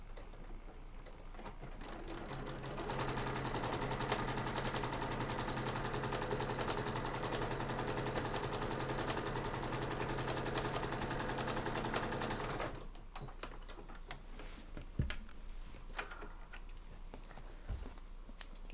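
A sewing machine stitches interfacing and lining together across the top of a cross body bag, a steady rapid mechanical chatter running close and even for about ten seconds before stopping, then a few light clicks.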